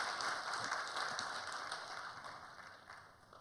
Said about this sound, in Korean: 인사하실 때 박수로 맞이해 주시면 고맙겠습니다